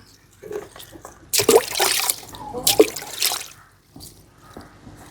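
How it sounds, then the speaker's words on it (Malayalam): Water splashes down in two short bursts, pouring and spattering nearby, separated by a brief pause, with quieter trickling around them. "ഇതിലൊക്കെ തിരിച്ച് വെള്ളം ഒഴിച്ച് കൊടുക്കാം"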